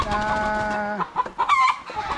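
White gamefowl chickens on a gamefarm, giving a drawn-out, crow-like call followed by a few short, clucking bursts, close by and fairly clear.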